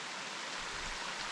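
A mountain stream runs through a forest on Monte Cuar, its water giving a soft, even rushing hiss that stays faint and steady, with no voices over it.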